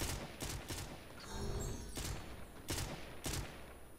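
A Ranger semi-automatic rifle in Fortnite Save the World fires six evenly spaced loud shots in quick succession, with a short gap of echoing tail between bursts.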